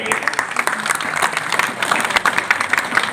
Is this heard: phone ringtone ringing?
no